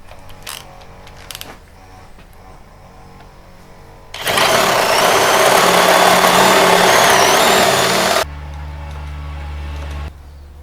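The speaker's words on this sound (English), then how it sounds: "I have it clamped in so I can cut easily" A short clamped piece of wood is cut in a burst of loud, harsh, sustained power-saw noise lasting a few seconds, preceded and followed by quieter motor hum and faint knocks.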